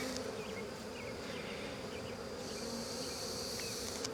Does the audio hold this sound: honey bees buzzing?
yes